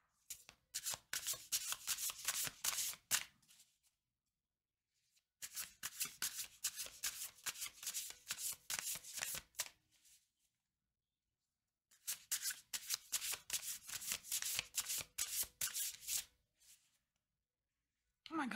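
A deck of oracle cards is shuffled by hand in three long bursts of rapid riffling and flicking, close and crisp, separated by short silent pauses.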